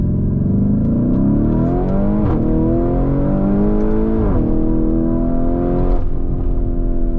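A Mansory Venatus with an 850 hp engine revs loudly and close, its exhaust droning in repeated rising and falling sweeps as the revs climb and drop against the rev limiter.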